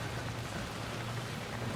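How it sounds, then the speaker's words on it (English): Rain drumming on metal in the video game Alan Wake II, a steady dense patter filling the scene with no voices. "The sound of the rain landing on the metal, that's so cool."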